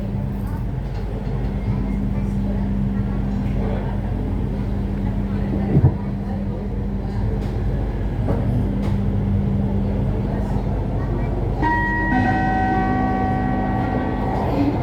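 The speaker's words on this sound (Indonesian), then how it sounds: "Welcome to LRT Jabodebek Cibubur Line. This train is bound for Harjamukti." An LRT Jabodebek light-rail train runs on the Cibubur Line, a steady broadband rumble and hum throughout, with bright electronic chime tones entering near the end and a voice present over the ride.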